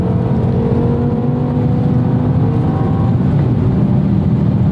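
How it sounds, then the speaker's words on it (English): A 2007 BMW M5 E60 V10 engine drones loudly and steadily from inside the car, with a low, even mechanical hum and no clear separate throttle blips. "Gotta give it the throttle a little bit more on these downshift lifts to really match it properly."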